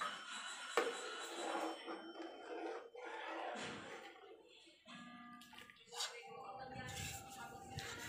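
Maja blanca mixture coming to a boil in a pot, giving soft bubbling and watery churning with occasional clinks, mixed with faint background noise.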